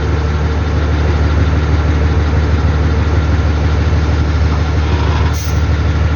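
A truck engine idles loudly and steadily with a deep low rumble, close by, before being shut off for a differential repair; no talk.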